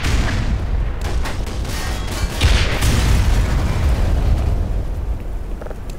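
A tank is blown apart in Black Mesa during the Surface Tension chapter, a loud sustained explosive roar with a heavier blast midway and a rumbling tail.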